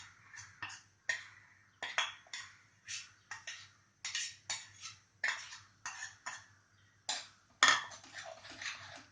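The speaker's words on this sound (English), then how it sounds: "just keep stirring this masala till the raw smell uh, comes off" A metal spoon scrapes and clinks rhythmically against a pan while ground masala and fried onions are stirred, steady repeated strokes close up, no talk.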